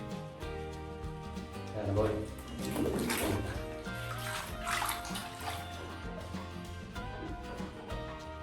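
Bath water sloshing and splashing as a dad washes his little daughter in a bathtub, a steady watery wash under continuous background music.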